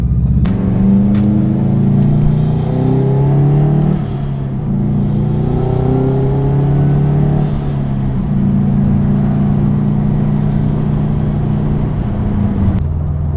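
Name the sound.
car engine revving with aftermarket exhaust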